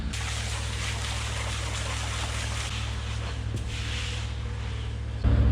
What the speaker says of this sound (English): Turn that plug out, then I'll rinse it out with water then once it drains.